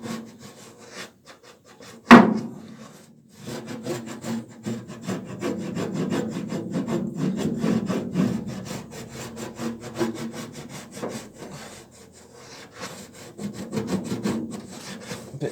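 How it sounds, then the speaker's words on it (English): A hammer edge scraped along a classic Mini inner wing steel panel to mark a crease line, heard as one sharp clank followed by a long, steady rasping scrape with rhythmic strokes, close and alone. "using the edge of my hammer, I'm just going to run it along that edge"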